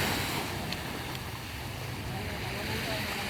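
Waves on a beach at night give a steady wash of surf mixed with wind rumble on the microphone, continuous and fairly soft, with no distinct breaking crash.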